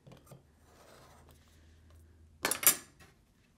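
Scissors cutting faux leather for a bracelet: a quiet stretch of faint handling, then a short, crisp burst of snipping near the end, close and fairly loud, with no talking.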